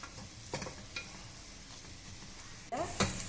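Onion with ginger garlic paste sautéing in a pot for biryani, stirred with a spoon that clinks and scrapes a few times over a low, soft sizzle, close and without speech.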